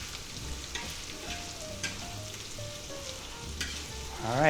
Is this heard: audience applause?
no